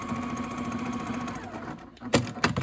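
A sewing machine top stitches flattened fabric for a pediatric port shirt, a steady close motor whir running for over a second before stopping, followed by a couple of sharp handling clicks.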